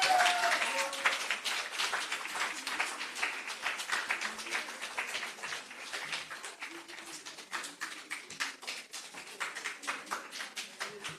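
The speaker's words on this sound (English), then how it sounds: "Can we have a big round of applause?" An audience at an international conference applauds as a speaker is called to the stage, a sustained crowd of clapping hands at moderate distance, steady throughout with a few louder claps standing out.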